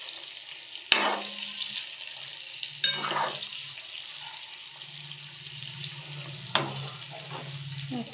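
Eggs fry in a pan for egg curry until browned. A steady, close hiss of frying runs throughout, broken by a few sharp taps of a utensil against the pan.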